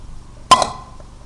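Ice dropped into a blender jar for a chickpea smoothie gives a single sharp, bright clinking clatter close by that rings briefly and then fades.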